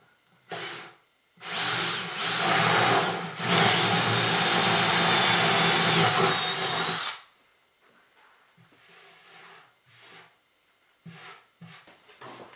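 A jigsaw cuts out a part for a DIY 3D printer in bursts: a short buzz, then a long steady loud whine of about five seconds, followed by quiet rustling and light handling knocks.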